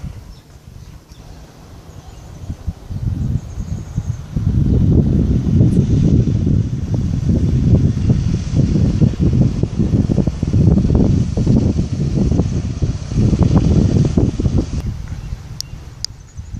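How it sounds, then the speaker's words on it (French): Steady gusts of light wind buffet the microphone beside Étang Saint-Paul, Réunion, a low rumbling roar that swells and eases for most of the recording, with no voices. "il y a un petit vent."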